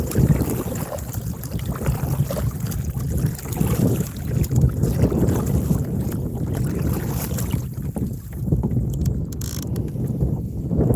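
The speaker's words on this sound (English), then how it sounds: "No, the wind. The wind." Steady wind rushes and buffets the microphone while fishing from a small boat on the water, a continuous broad roar with low gusting rumble and no talk.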